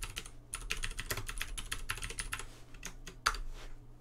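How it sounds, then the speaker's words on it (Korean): Typing on a computer keyboard while entering a command in a prompt window, with rapid clustered key clicks over a steady hum and one sharper, louder keystroke near the end like Enter being pressed; no one speaks. "이렇게 작성하고 엔터를 누르면 됩니다."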